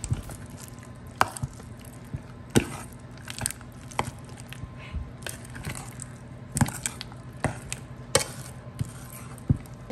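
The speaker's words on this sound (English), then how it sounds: "We'll be quiet for some mixing ASMR." Spoon mixing taco dip with taco seasoning and garlic in a bowl, giving soft scraping and sticky stirring strokes with a few sharper clacks, close and steady, with no talking.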